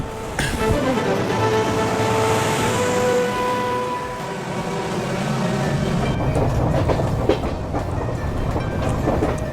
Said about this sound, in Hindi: और अभी हमारी ट्रेन निकली न्यू हाफलोंग स्टेशन से